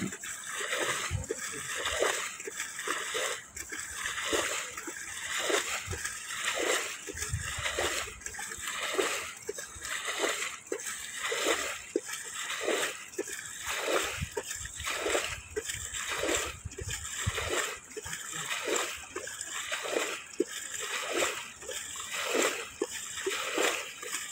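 Water being moved out of a flooded rice seedbed in a paddy field, giving steady repeated splashing and sloshing strokes at a regular rhythm, close and moderately loud throughout.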